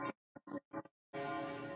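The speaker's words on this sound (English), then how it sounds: "the bells are going out in the background for the local mass here in Minori" Church bells ringing for the local mass in Minori, heard faintly in the background: a few short broken strikes followed by a sustained, ringing tone.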